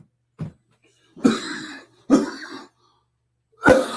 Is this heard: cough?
yes